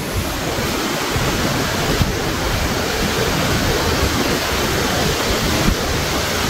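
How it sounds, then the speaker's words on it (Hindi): Tiger Fall waterfall in Chakrata, Uttarakhand, roars as a loud, steady broadband rush of falling water, heard up close with no talking. "बीच में से ये वाटरफॉल देखने जा रहे हैं हम।"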